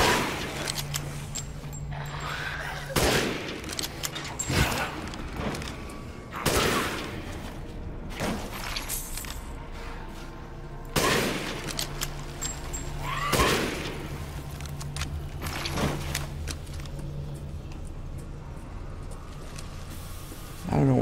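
Sniper rifle shots in the video game Resident Evil Village, set in Heisenberg's Factory: several loud, sharp blasts spaced a few seconds apart, each with a ringing tail, over a low mechanical hum and some talk.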